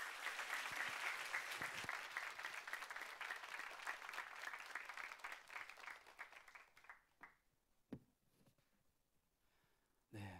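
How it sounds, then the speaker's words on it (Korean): A church youth-service congregation applauds to welcome the preacher, a full burst of clapping that holds for about seven seconds, then dies away into a few scattered claps and quiet. "큰 박수로 전도사님 환영하도록 하겠습니다."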